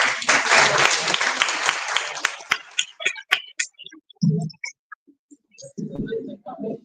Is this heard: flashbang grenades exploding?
no